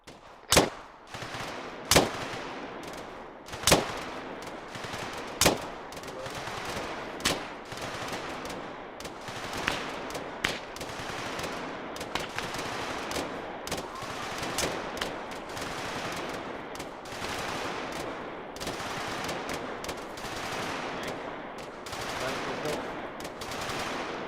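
Sustained rapid-rate rifle and machine gun fire from a section in an Arma 3 military simulation battle drill, sharp loud shots at first, then a dense continuous crackle of overlapping gunfire, with faint voices now and then.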